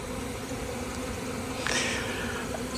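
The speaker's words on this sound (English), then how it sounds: "there's that many bees on the outside and there's so many bees in the air" A swarm of honey bees buzzing in the air around a hive, a steady faint drone of many wings with a few louder passes close by.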